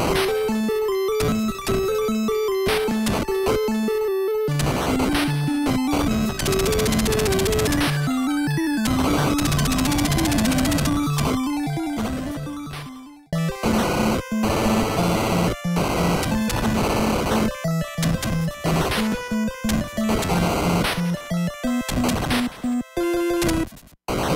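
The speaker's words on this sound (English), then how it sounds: "Guile's stage music is just a bunch of weird sounds," Guile's stage music from an NES port of Street Fighter II, a loud, harsh chiptune of buzzy square-wave tones and noisy percussion that cuts out briefly midway, then restarts in choppy bursts.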